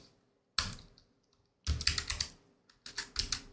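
Typing on a computer keyboard while searching on a Windows 11 PC: a few short bursts of close, crisp key clicks separated by silent pauses, with no talking over them.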